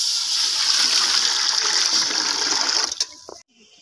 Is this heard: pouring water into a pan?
yes